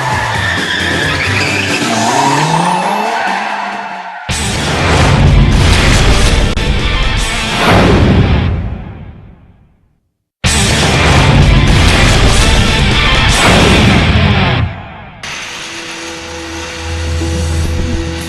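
Cars tear through a gymkhana course with loud, close tire skids and engine roars in long sustained runs, cut by a brief silence partway through.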